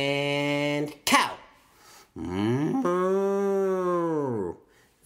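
People imitate a cow, voicing two long drawn-out moos, the second sustained and wavering, separated by a short breathy burst.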